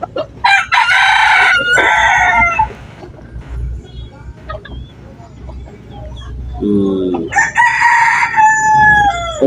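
Bantam rooster crowing loudly and close, two long crows at the start and another near the end, with clucking and other fowl calls between them on a farm.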